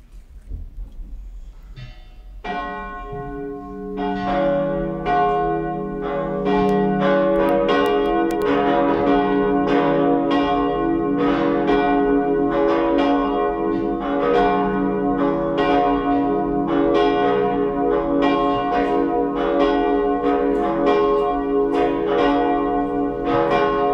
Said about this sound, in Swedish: Och nu får vi lyssna till klockringningen.